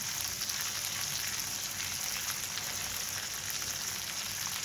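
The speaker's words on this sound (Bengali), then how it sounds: "আবার ভেজে নেব আমি ভালো করে ভেজে নিচ্ছি মাছের মাথাটা" A rohu fish head fries in a pan with a steady, close crackling sizzle like light rain, even and continuous throughout, moderately loud, with no speech.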